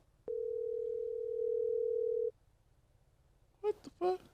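A telephone tone on a call sounds as a steady, unbroken hum for about two seconds, then stops. After a short pause, a couple of brief voice fragments follow.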